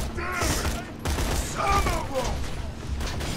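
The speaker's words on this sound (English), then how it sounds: "Who is shooting me?" Gunfire in the video game Borderlands 2, a burst of rapid shots and mechanical clatter running under a speaking voice, fairly loud and close in the game mix.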